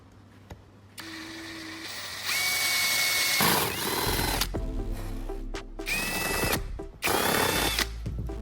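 Holes and grooves are drilled into a PVC guide with a whining power tool in several loud bursts that rise and fall in pitch, separated by brief pauses and lighter handling clatter, close up.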